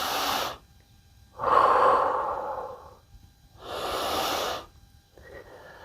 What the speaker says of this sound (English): A few rounds of breath.